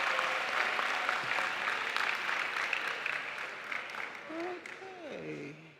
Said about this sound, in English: Can we give the governor one more round of applause?